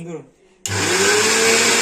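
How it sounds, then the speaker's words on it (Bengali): Mixer grinder jar grinding roasted chickpeas into a paste starts abruptly after a brief pause, a loud, steady motor whine with grinding roar that holds close and constant to the end. "ভাজা ছোলা নিয়ে যাই ছোলা মিক্সিতে পেস্ট করব"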